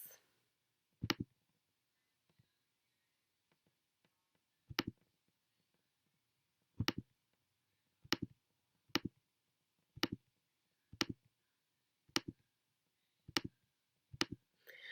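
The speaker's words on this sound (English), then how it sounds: "I'm going to take and start clicking on these." Computer mouse clicks while selecting small design pieces in Cricut software, about a dozen sharp, close clicks spaced irregularly a second or so apart against near silence.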